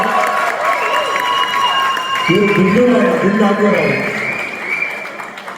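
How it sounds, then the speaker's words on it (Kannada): An audience at a Kannada Yugadi festival gathering claps and cheers steadily as a guest is called to the stage, a broad wash of applause running under someone talking on a microphone. "ನೀವು ಜೋರ ಚಪ್ಪಾಳೆ"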